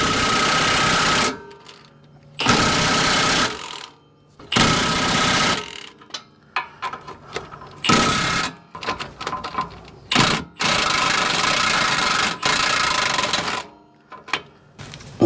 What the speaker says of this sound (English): I'm going to try the big 1/2" Milwaukee impact here with just a little universal wobble there